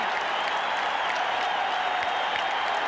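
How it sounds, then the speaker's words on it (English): A baseball stadium crowd at a 1986 Mets–Astros playoff game roars after a home run in extra innings, a steady, distant wash of cheering and applause that holds throughout. "the crowd is standing and still roaring"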